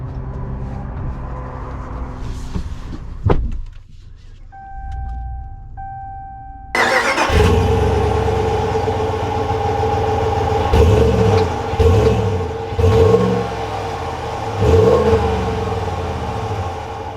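A 2021 Ram 1500 Limited Night Edition pickup cranks and fires up after a few quiet clicks, then settles into a steady, close idle and pulls away with several deep rising surges of engine revving.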